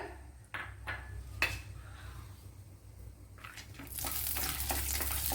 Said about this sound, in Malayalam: അപ്പോഴിവിടെ കുറച്ച് നെയ്യ് ഒഴിച്ചു കൊടുത്തിട്ടുണ്ട് ഗീ അതിലേക്ക് കുറച്ച് ക്യാഷ്യൂനട്ട് ഇട്ട് കൊടുക്കാം